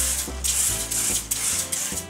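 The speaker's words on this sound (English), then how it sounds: "just with some cooking spray oil." A few quick bursts of aerosol cooking oil spray, hissing in short pulses with brief pauses between, close by.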